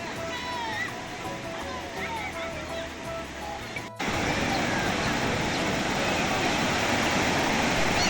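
Sea waves wash onto the beach at Kuakata in a steady, loud roar of surf, with a brief dip near the middle before the wash swells again fuller and continuous; a few faint bird-like chirps are heard early on.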